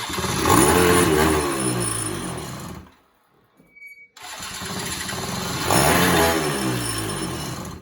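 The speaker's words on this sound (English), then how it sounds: "When it starts, open it wide open." A Polaris Scrambler 90 ATV engine, carburetor just cleaned, roars loudly at wide-open throttle, cuts out to near silence for about a second, then catches again and revs hard, rising to a loud peak before holding steady.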